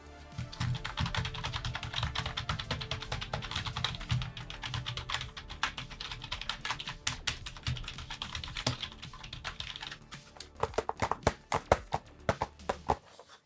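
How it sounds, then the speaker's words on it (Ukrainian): Rapid typing on one of the cheapest membrane computer keyboards, a dense run of close, light plastic key clicks that thins near the end into a few louder, separate taps. "Ось вам приклад того, як звучить одна з найдешевших клавіатур, що я зміг знайти."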